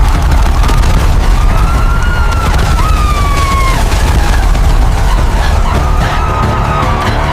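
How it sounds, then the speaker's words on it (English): Loud, continuous rumbling explosions and booming impacts roll through a dense, chaotic war soundscape, with siren-like wailing tones sliding over the constant low roar. "We're hit! Multiple explosions!"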